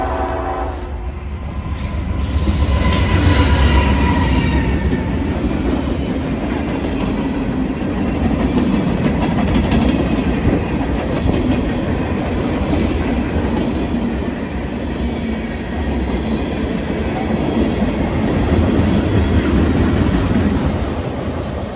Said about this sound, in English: We've got a train coming through.